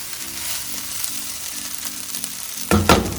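Chicken fried rice stir-fried with two spoons: a steady sizzle under rhythmic scraping and tossing strokes, ending in a louder clatter of the spoons against the pan.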